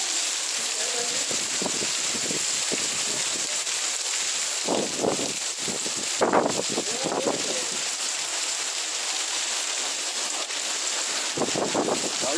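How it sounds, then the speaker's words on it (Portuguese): Wind gusts blowing through a summer rain shower, a steady broadband rush with rain hiss and several louder gust swells, close to the microphone. "Olha o vento."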